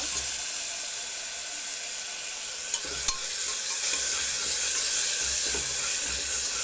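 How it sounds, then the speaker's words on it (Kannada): Ginger garlic paste sautéing in a pressure cooker for veg biryani: a continuous soft hiss of frying, with a couple of faint scraping clicks from stirring partway through. "ಶುಂಠಿ ಬೆಳ್ಳುಳ್ಳಿ ಪೇಸ್ಟು ಇದನ್ನು ಹಾಕಿ ನಾವು ಈಗ ಚೆನ್ನಾಗಿ ಬಾಡಿಸೋಣ"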